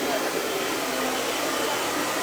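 A hair blower runs nonstop at full power backstage with a makeup artist touching up, a loud close steady whooshing roar that fills the whole stretch, faint voices mixed underneath.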